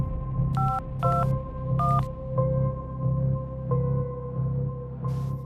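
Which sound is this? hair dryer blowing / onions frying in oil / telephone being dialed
telephone being dialed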